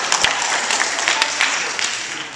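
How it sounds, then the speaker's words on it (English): A crowd claps steadily, a brief round of applause at moderate volume with scattered louder claps. "Give them a round of applause."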